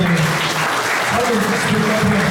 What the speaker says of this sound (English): let's give him one more big cheer there